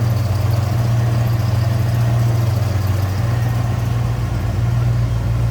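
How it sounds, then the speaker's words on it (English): A 1967 Buick GS 400 V8 idles steadily up close, a loud, even low rumble with a constant drone and no talk throughout. "There's that engine bay, sounding pretty good."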